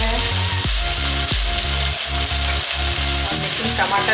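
Mutton bhuna masala with tomato cooking in a pan, a loud continuous frying sizzle with repeated stirring scrapes and clanks of the utensil against the pan; no voices.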